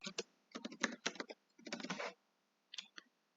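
Typing on a computer keyboard: close, crisp keystrokes come in quick irregular clusters separated by short pauses, with a few isolated taps at the end.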